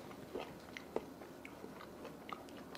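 Freeze-dried zucchini with tough skin, bitten at close range: a few faint, dry crunches spaced irregularly over a quiet background.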